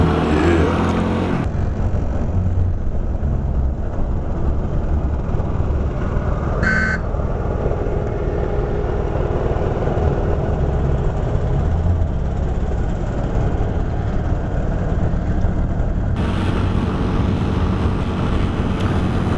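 A motorcycle rides along Indian roads in cold weather, its engine and exhaust giving off a loud, continuous drone close by, with steady wind rush over the whole ride and a brief high tone midway.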